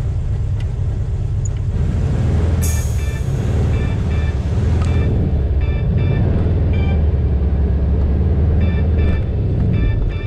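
Car rolling slowly at night in Rio de Janeiro, its engine a low steady rumble close by, with faint ticking and a brief sharp noise partway through, no talk.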